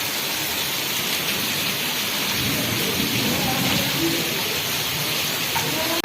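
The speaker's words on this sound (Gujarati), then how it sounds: "વીજળીના કડાકા ભડાકા અને પાણી જો મસ્ત જાય" Steady heavy rain pours down without a break during a night thunderstorm in Kutch, a dense wash of noise throughout with low rumbles of thunder beneath it.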